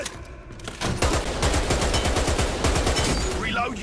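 Rapid bursts of video game gunfire aimed at a training dummy, a steady rattling stream of loud shots following a brief quiet lead-in, with no voice over them.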